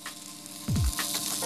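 Pork chops frying in garlic butter in a pan, with a steady sizzle that swells louder midway as something shifts in the hot fat.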